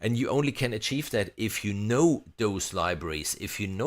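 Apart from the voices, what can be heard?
None of the usual background noises is heard.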